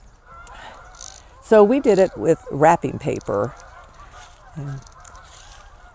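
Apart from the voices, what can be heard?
flock of geese honking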